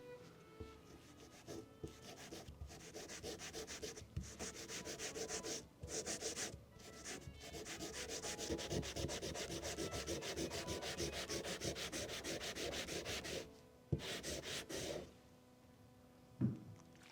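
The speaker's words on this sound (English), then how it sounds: "I use a wine cork because it is gentle on the blade." A wine cork scrubs Barkeeper's Friend along a rusty knife blade that spent a year in compost, making soft, steady rubbing strokes with a few short pauses, quiet and close.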